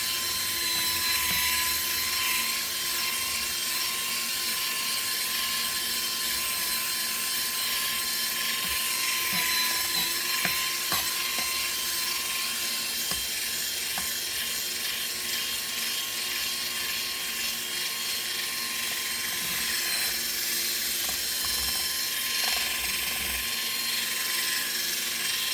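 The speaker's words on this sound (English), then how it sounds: "This is more of a polishing tool." A handheld polishing tool runs steadily on an epoxy resin tray set with pressed flowers, giving a constant whirring, grinding hum with a faint whine that holds for the whole stretch.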